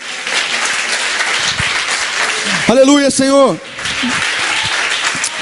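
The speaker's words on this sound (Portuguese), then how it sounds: "Aplauda esse Jesus maravilhoso." Congregation clapping at a Família da Graça youth church meeting, a dense, steady burst of applause throughout, with one voice calling out loudly in the middle.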